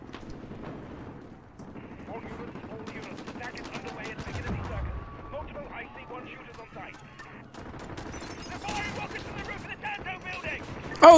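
Gunfire in Call of Duty Modern Warfare, including AK rifle fire: scattered shots and bursts at moderate level through a busy game mix, with players talking over it.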